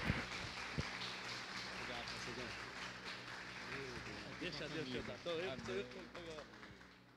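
A church congregation applauding, dense steady clapping at moderate distance, with people talking and calling out over it as it fades toward the end.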